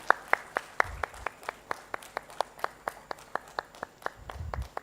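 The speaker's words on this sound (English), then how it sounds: "A big round of applause, ladies and gentlemen." Scattered applause rises at a textile industry launch event in Bhubaneswar, mostly one clear clapper keeping a steady even beat close by, with faint background murmur underneath.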